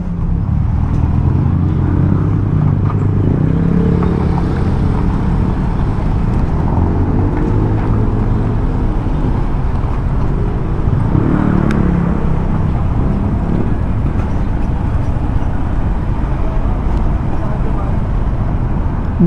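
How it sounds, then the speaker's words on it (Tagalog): Road traffic in Gumaca, Quezon, heard from inside a vehicle: a loud, steady engine and road rumble with passing vehicles, and voices talking faintly underneath. "traffic sa Gumaca"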